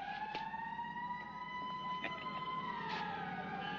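A wailing emergency siren from a 1965 film rises and falls in long sweeping tones, moderately loud with faint clicks and background noise beneath it.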